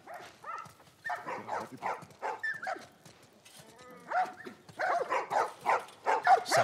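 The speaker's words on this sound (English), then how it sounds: "These dogs are all accounted for." Dogs in The Last of Us Part 1 bark and whine in repeated bursts, fairly close and loud, with a few dogs seeming to overlap, and voices faintly mixed in.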